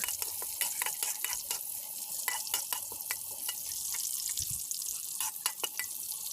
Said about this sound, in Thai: ผัดกระเทียมให้มีกลิ่นหอมนะคะ